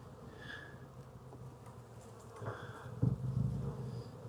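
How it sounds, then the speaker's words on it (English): Honeybees buzz in the top box of a hive during a post-winter check, a steady close hum with a louder burst of nearby buzzing toward the end, no talking. "we've got several frames of bees here in the top box"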